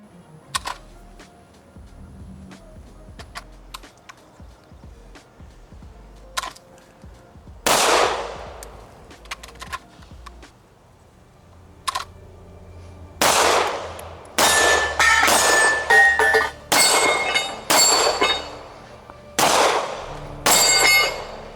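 Gunfire on a shooting range: scattered single shots early on, then rapid strings of loud, sharp cracks fired in quick succession, close by.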